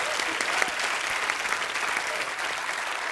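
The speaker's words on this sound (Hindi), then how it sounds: "जोरदार तालियां इस बात के लिए।" A studio audience at a Hindi celebrity talk show bursts into loud, dense applause that holds steady throughout, with no voices over it.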